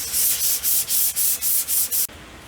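Hand sanding a wooden dresser drawer, nine quick back-and-forth rasping strokes in steady rhythm, close and fairly loud, then stopping abruptly, with no talking.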